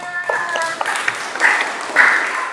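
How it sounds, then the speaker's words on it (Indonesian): Students in a classroom clap briefly after a group presentation, a short burst of close, uneven applause mixed with speaking voices. "Tepuk tangan."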